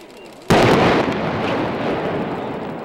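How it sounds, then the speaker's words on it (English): A single massive demolition blast from 100 pounds of explosives hits suddenly and loudly, then rolls on as a long, dense rumbling roar that slowly fades over the following seconds. "what does it sound like when you set off 100 pounds of explosives?"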